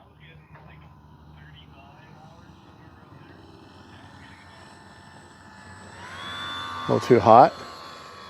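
A Dynam RC model Messerschmitt Bf 109 airplane flies with a faint, steady engine drone that swells somewhat later on, while someone speaks briefly nearby.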